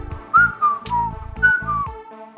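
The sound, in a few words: person imitating whistling to himself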